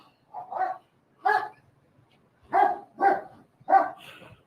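A police dog barks in five sharp, separate bursts, close and loud, with short gaps of quiet between them around a car.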